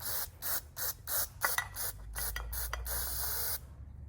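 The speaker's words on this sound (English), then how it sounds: "We're just gonna spray it in the bottom of the bowl." Aerosol cleaner is sprayed into the bottom of a go-kart carburetor bowl in a rapid series of short, loud hissing bursts, several quick spritzes followed by a longer continuous spray before it cuts off.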